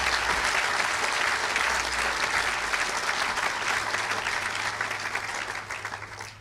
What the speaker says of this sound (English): Please join me in giving all the parents and families a round of applause.